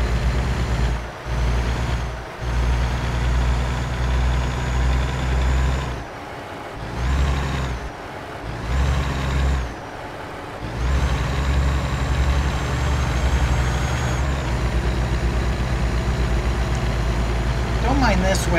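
A truck engine idles in American Truck Simulator, a loud close diesel rumble heard from right on top of the engine, broken by several short hissing air-brake bursts and dips in level, continuous across the stretch.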